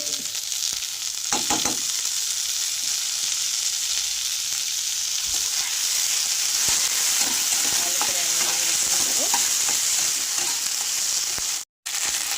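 Raw tomato and ginger-garlic paste added to onions already fried red with green chillies in oil, for a boal fish curry. A loud, continuous sizzle fills the clip, with scraping stirring strokes throughout.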